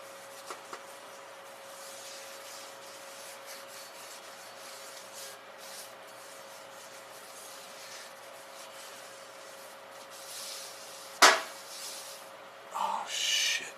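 Oil is rubbed into a cast iron pan to season it, giving a faint, continuous dry rubbing hiss with a steady hum beneath, one sharp knock near the end, and louder rubbing afterward.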